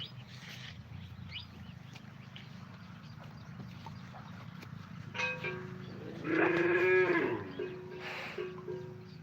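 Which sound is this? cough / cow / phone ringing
cow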